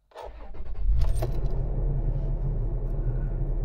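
A 2018 Toyota FJ Cruiser 4.0 with automatic transmission cranks briefly and starts, then settles into a steady, low idle rumble, close and fairly loud.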